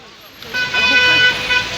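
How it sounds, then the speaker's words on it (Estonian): A car horn toots sharply on an Algerian street amid traffic, a sustained nearby honk with a couple of bursts over road noise, while a voice talks alongside. "See, kellel parem signaali heli on."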